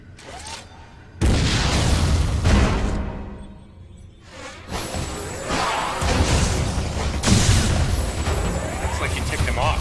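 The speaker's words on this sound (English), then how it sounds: "Why not say hello with a missile?" A missile explosion in the action video game Metroid Other M: loud booming bursts and whooshing blasts mixed with game music and sound effects, with voices talking over parts of it.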